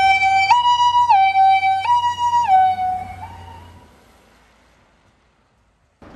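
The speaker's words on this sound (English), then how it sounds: "all the lights and the sirens are in proper working order" Ambulance siren on a 1995 Toyota Hiace HiMedic: a loud, close two-tone wail stepping up and down in a regular rhythm for several seconds, then cutting off into near silence.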